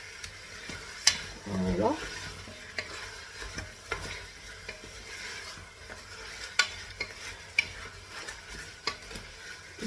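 Chicken drumsticks are stirred in a spiced sauce in a pan, with soft sizzling under scattered scrapes and clicks of a utensil against the pan, and a voice says a word briefly.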